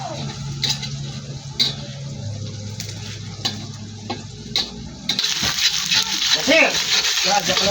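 Onions go into a hot pan with toasted tofu, and a loud, bright sizzle bursts in partway through after quieter stirring and clatter, continuing crackly and close.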